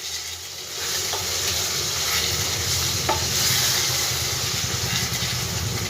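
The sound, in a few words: chicken being stir-fried in a pan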